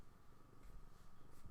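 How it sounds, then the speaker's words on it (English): Soft, steady purring with a low, rhythmic rumble, close and quiet, continuing evenly without any voices. "She is purring now though, she seems pretty happy."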